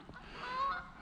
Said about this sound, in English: A flock of Canadian geese